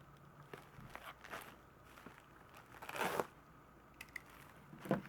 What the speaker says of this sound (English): let me get this cut open